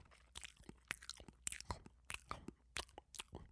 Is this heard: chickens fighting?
no